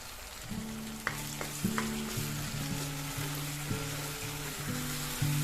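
Dried and green chilies fry in hot oil with spices, giving a close, steady sizzle with a few sharp crackles and stirring scrapes, and no voices.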